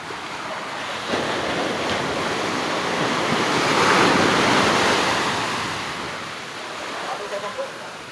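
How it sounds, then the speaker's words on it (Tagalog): Big sea waves roar and crash in a broad wash that swells to a loud peak midway and then recedes, with wind buffeting the microphone. "Lalaki ng alon."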